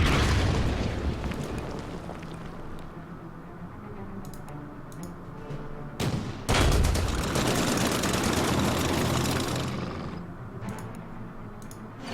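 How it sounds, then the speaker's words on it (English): Artillery shelling in the Order of Battle wargame, desert sandstorm setting of Operation Crusader: a dense, continuous rumble of distant booms and blasts, swelling into a loud burst of explosions midway before easing off. "Artillery will take shots."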